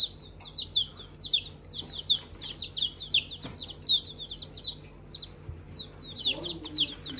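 High, rapid cheeping from several chicks, a busy repeated chorus of peeps close by, with faint low clucks and a brief voice in the background.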